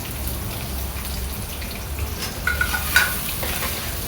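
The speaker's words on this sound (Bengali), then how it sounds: "আমি হালকা ভেজে নিব।" Chopped onion lightly frying in oil with ginger and bay leaf for Munshiganj-style bouwa rice: a steady soft sizzle with faint stirring scrapes and a few brighter crackles near the end, no talk.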